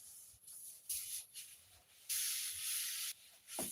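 Hand sanding on the body of a 1975 Cutlass Supreme, in distinct scratchy strokes of varying length, with a long stroke near the middle, close by and moderately quiet, with no talk.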